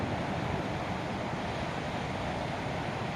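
Waves washing onto a seashore strewn with bamboo and driftwood, a steady rushing surf noise that stays even and unbroken, with no voices.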